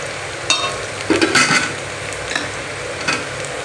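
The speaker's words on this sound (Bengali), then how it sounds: "পেঁয়াজটা লাল লাল করে ভাজা হয়ে গেছে এবারে আদা রসুনের পেস্ট দেবো" Ginger-garlic paste goes into onions already fried red in a pan, with a steady sizzle and several scraping stirs and utensil knocks against the pan, close and without talk.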